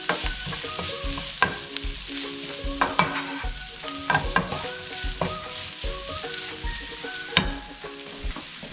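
Chopped onion stir-fries with mushrooms in a pan for a coconut mushroom thoran, a steady soft sizzle broken by frequent spatula scrapes and clicks against the pan, with no talking.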